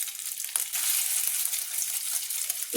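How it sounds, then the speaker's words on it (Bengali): Marinated chicken pieces fry in a pan with a steady, close, bright sizzle and occasional soft stirring knocks, a constant crackle that holds at a level volume throughout with no voices. "এবার এই ম্যারিনেট করা চিকেনগুলোকে আমি কিন্তু ভেজে নিচ্ছি"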